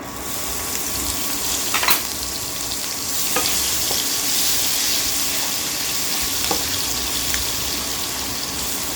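Green chillies tossed into a pan of frying taro curry raise a steady loud sizzle, with a few scraping stirs and clinks of the spoon against the pan.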